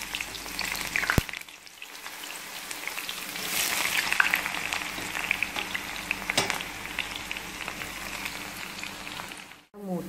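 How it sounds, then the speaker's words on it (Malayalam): Sliced onions deep-fry in hot sunflower oil for Thalassery chicken biryani, giving a dense, steady sizzle at close range with a few sharp clicks as the pieces are stirred. "ഡീപ്പ് ഫ്രൈ ചെയ്ത് ഈ ഓണിയൻസ് ഫ്രൈ ചെയ്തെടുക്കാം"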